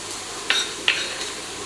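Onions dropped into hot, overheated oil in a home kitchen pan, giving two sharp sizzling bursts close by against a steady background hiss.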